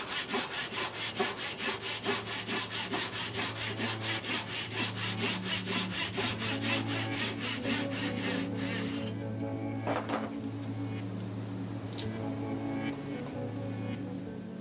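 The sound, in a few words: hand sawing wooden pieces in two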